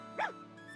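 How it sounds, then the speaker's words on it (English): A single short dog bark from Fire Emblem Engage, a video game, sounding once near the start against a quiet, steady background hum, with no talking. "Oh, no, that's a dog."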